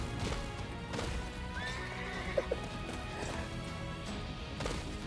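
A horse in the Attack on Titan video game neighs once in a rising whinny, with steady clip-clop of hooves and a couple of sharp knocks over constant game ambience.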